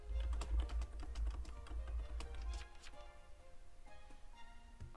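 Rapid, frantic typing on a keyboard gives a dense run of close clicking keystrokes that thins out toward the end, over a low background rumble.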